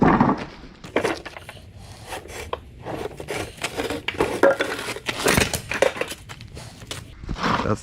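A heavy vehicle oil pan being handled during street scrap metal collection, scraping and rubbing metal with occasional hollow thunks and clanks, close and irregular.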